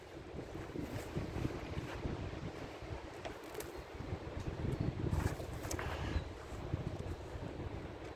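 Steady wind rushes and buffets the microphone outdoors for several seconds, with a broad continuous roar and occasional stronger gusts and no voices.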